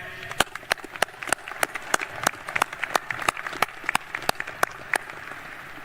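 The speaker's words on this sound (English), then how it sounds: "a round of applause to our guests" Audience applause for guests at the 2025 U.S. Air Force Academy graduation: sharp, irregular hand claps ring out over a steady crowd wash, fairly close and moderately loud throughout, with no voices.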